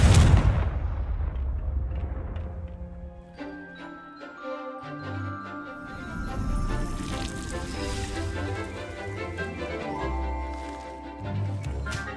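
Confringo fire spell blasting in Hogwarts Legacy, a heavy whooshing burst and then crackling, rumbling impacts under layered game sound and music. The clip is fairly loud throughout, with a strong hit at the start and further blasts after it.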